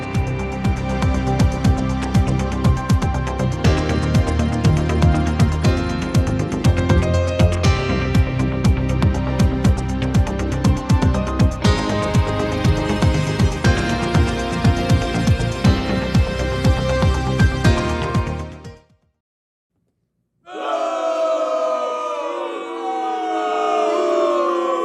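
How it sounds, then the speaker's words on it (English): A crowd booing sound effect: a dense, loud, sustained roar of many voices that runs for about eighteen seconds, cuts to silence, then a shorter burst of voices follows. "I always like starting this segment with that sound effect. The crowd booing at me."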